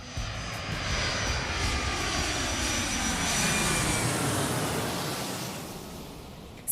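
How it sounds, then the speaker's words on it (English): An airplane takes off, its engine roar building into a steady, loud, broad rumble with a faint whine above, heard alone without talk. "Flight crew, prepare for takeoff."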